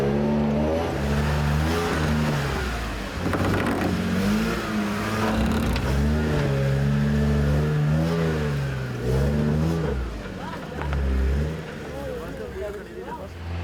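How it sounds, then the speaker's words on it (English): A Toyota straight-six engine labors up an off-road climb, its pitch repeatedly rising and falling as the throttle is worked, loud and fairly close, with some overlapping voice. "Llewellyn Edwards and Andries Briver let the Honeydew Toyota's straight 6 engine do the talking, and they make it up."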